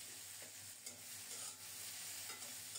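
Okra fries in hot oil with black cumin, salt and turmeric, giving a soft continuous sizzle and a few faint stirring scrapes, heard quietly with no voices.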